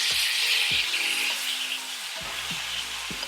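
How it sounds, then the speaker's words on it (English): NY steak fat rendering in a hot pan, a continuous bright sizzle with occasional low knocks and scrapes of the meat being moved. "You just want that fat to render a little bit and get a nice color to it."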